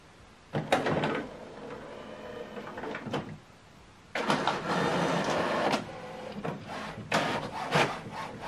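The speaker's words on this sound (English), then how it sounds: "Now this document is printing." An HP printer runs a double-sided color document at 600 dpi, giving close mechanical feed whirs and clacks in two longer bursts with sharp clicks between them. Quiet room, no talking.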